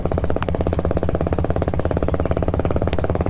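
Diesel Royal Enfield Bullet motorcycle running steadily nearby with a loud, even thumping engine pulse that continues throughout, accompanied by a faint click or two.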